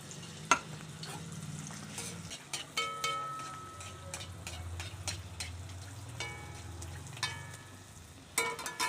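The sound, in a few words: pitha frying in hot oil in a wok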